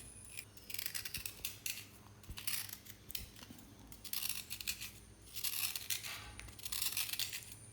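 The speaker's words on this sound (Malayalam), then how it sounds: "ശർക്കര ഒന്ന് ഇങ്ങനെ ചുരണ്ടി കൊടുക്കാം" Solid block of jaggery scraped by hand for a sweet wheat-flour filling with grated coconut, giving bursts of dry, gritty rasping that come in uneven strokes, close and fairly quiet, with no voices.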